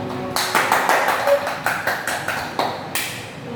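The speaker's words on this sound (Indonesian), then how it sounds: "Tepuk tangan dulu." A few people clap in a short, uneven burst of separate claps, fairly close, greeting a nutrition expert from a community health centre as he is introduced on an Indonesian health programme.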